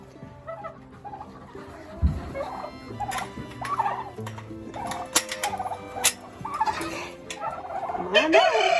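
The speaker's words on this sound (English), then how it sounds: "Hi turkeys, look how big you got." Turkeys in an indoor farm pen cluck and gobble close by in scattered calls, with rustling and shuffling between them and a burst of gobbling near the end.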